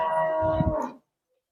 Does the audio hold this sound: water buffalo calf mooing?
yes